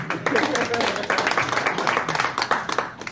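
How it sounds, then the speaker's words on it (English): An audience at a comedy show in a hospital claps in a burst of scattered applause, fairly faint and mixed with crowd noise. "f you think someone's wrong with Mike Tyson, let me hear you clap."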